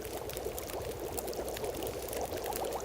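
Snow melts over a fire in The Long Dark, giving a steady, soft pouring and trickling hiss that stays even and fairly quiet throughout, with no talk.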